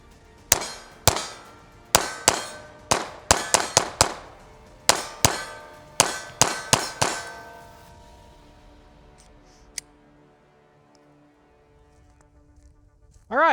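Pistol firing a magazine, probably a Glock 48 or Shield X: about fifteen sharp, loud shots in uneven bursts over eight seconds, each with a ringing metallic tail, then near quiet with a faint clink.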